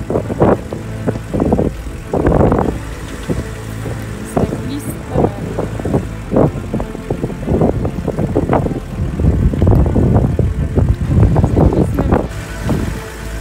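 A camper van stuck on grass revs its engine in repeated surges while the wheels spin and slip, the loud bursts rising and falling over several seconds with short pauses between them.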